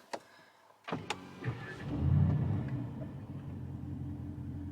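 A few clicks and a whirring crank, then a car engine catches and settles into a low, steady idle rumble, heard close and fairly quiet.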